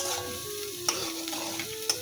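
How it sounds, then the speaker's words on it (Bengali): Onion frying in a pan with salt and turmeric gives off a soft, steady sizzle, while two sharp scrapes of a spatula stirring land about a second apart, with no voices. "এবার পেঁয়াজটা একটু ভাজা ভাজা করে নেবো"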